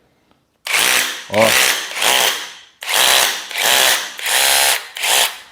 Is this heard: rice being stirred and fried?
no